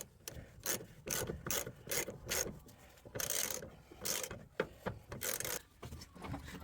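A hand ratchet tightening the fuel pump strap bolts on a Chevy Silverado, giving repeated quick bursts of close clicking with short pauses between strokes.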